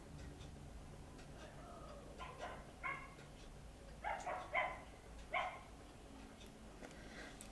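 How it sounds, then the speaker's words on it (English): A dog barks in short bursts from another room close by, several sharp yaps spaced irregularly, some doubled, over a low steady background hum with no talking. "sorry about any barking you can hear."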